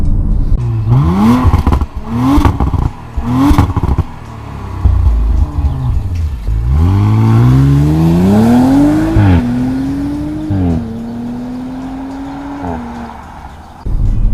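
Audi RS5 with the optional sport exhaust, heard close and loud: three quick sharp revs, then a long climbing acceleration through rising gear pulls that settles into a steady, slowly fading engine tone.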